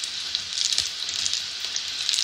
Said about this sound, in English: whilst you're frying them